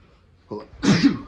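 A single sneeze bursts out abruptly at close range, short and loud, after a brief breathy intake, with no talk over it.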